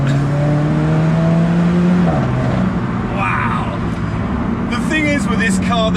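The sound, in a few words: sports car engine revving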